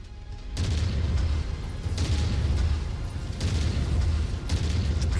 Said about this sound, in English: Reactor hit. Explosion imminent.